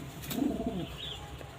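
A single low, rolling coo from a Kalenga pigeon held in the hand, swelling briefly and fading within a second, close and clear over faint background noise.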